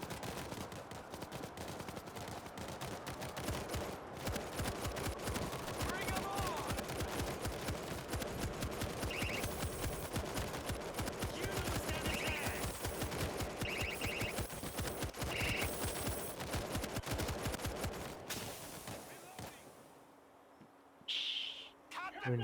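Sustained automatic gunfire from an M60 machine gun in the co-op zombie shooter World War Z, dense rapid bursts running nearly continuously and loud, then thinning out near the end.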